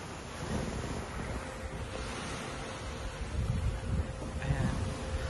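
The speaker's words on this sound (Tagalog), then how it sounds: "Dahil sobrang laki ng dagat." Ocean waves seen from the deck of a Royal Caribbean cruise ship roll in a steady, distant wash of surf mixed with heavy wind buffeting the microphone, swelling slightly toward the end.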